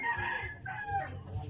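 Farm chickens, a rooster crowing close by with hens clucking alongside in a short burst, no talking.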